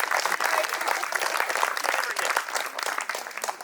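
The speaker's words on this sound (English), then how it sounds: "I think he deserves a round of applause." Wedding guests applaud in a steady burst of clapping that fills the room, dense and sustained throughout with a slight taper near the end.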